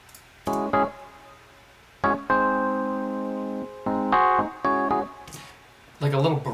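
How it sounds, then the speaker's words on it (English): A Rhodes electric keyboard drenched in heavy reverb for a ghostly feel plays a run of chords with long, washy sustains, bright and punchy; a voice briefly comes in at the end. "I actually added a Rhodes keyboard to that"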